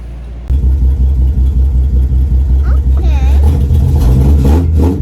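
Project Z car engine cranks and catches, then settles into a loud, steady rumbling idle with a brief rev toward the end, heard up close.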